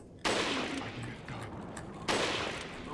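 Gunfire from Resident Evil 4 as shots hit shield-carrying enemies: two loud, sharp bursts of fire about two seconds apart, each trailing off into echoing reverb over a busy game background.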